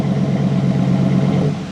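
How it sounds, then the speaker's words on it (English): A 2019 Ram truck engine fitted with an AWE 0FG exhaust idles with a deep, steady rumbling growl, loud and close, holding even throughout before easing slightly at the end. "I absolutely love that little growl it's got when it starts up"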